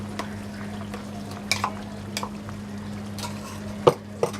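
A spoon stirs ground masala into chicken in a pan, soft scraping and scattered clinks over a low steady hum, with a couple of sharper knocks near the end.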